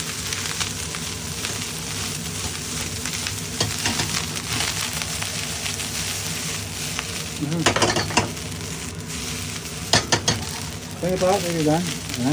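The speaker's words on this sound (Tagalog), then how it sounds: "Gawin natin perfect fried rice po ito." Egg fried rice with garlic, carrot and sauces sizzles steadily in a hot pan while a utensil scrapes and tosses it in bursts, close and loud, with someone talking briefly over the cooking.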